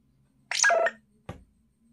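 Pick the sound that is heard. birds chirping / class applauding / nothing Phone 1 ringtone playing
nothing Phone 1 ringtone playing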